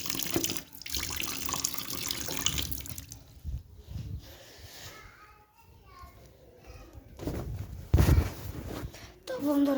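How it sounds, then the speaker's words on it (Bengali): Running tap water from a sink while someone washes face and hands, a steady close hiss broken by splashes and a few louder bursts, with voices in the background. "তো চলুন, প্রথমে মুখ হাত ধুতে হবে"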